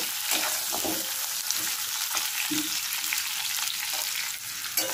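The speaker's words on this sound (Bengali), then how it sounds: "আলুটা এবার ভেজে নেব" Thinly sliced potatoes frying in a pan, a loud, close, continuous sizzle with occasional stirring scrapes.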